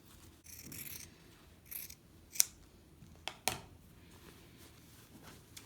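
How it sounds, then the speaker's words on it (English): Scissors snip through fabric binding to cut off a triangle, a few short, quiet crisp cuts and rustles with two sharper snaps in the middle, close up and with no talking. "I can cut off the back triangle."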